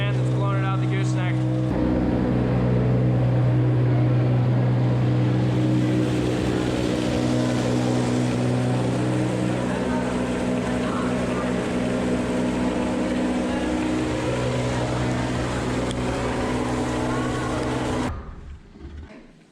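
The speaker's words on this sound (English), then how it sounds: "So it's just augering it into the center, and there's a fan that's blowing it out the gooseneck." A silo filler auger and fan blow chopped rye up into a silo, a loud, steady mechanical roar with a low droning hum that runs continuously and close, then cuts off at the end.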